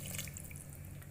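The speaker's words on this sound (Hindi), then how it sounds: "अब हम लोग इसके अंदर पानी ऐड करेंगे, आधा गिलास, ज़्यादा नहीं ऐड करेंगे।" Water is poured into a pot of potato and mongray curry, giving a faint, steady splashing and trickling that runs throughout without any speech.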